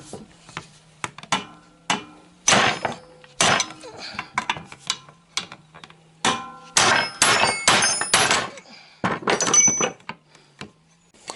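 A hammer strikes a cotter pin on a Citroën Traction 11 pedal assembly: a long series of sharp metallic blows, some in quick clusters, others single with ringing tails, loud and close with scraping and clinks between.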